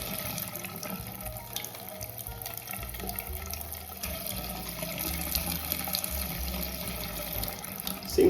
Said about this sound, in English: got good water flow